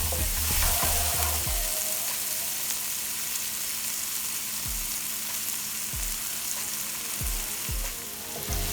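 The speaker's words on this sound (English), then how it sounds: "I'll saute this for maybe a minute or so" Garlic, onion and peppers sauté in hot oil for Cajun wild rice, a steady loud sizzle and crackle running throughout with occasional low scraping stirs of a utensil against the pan.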